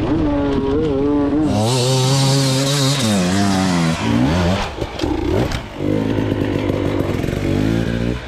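A racing motorcycle on a track at Bilstain revs hard and close, its engine pitch climbing and falling repeatedly through a loud, continuous run of throttle blips and sustained high revs.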